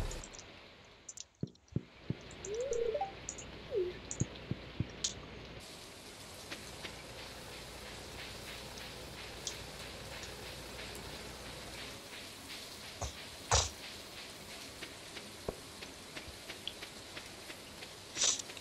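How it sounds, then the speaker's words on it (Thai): Rain falls in the Stardew Valley video game as a soft, steady patter that continues throughout, broken by scattered clicks and small taps. "ฝนตกแล้วนะ"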